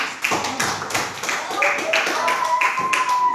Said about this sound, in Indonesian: kita beri tepuk tangan untuk kelompok 4